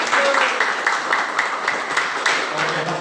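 An audience clapping after a group presentation on drug dangers in a classroom, a short burst of scattered applause.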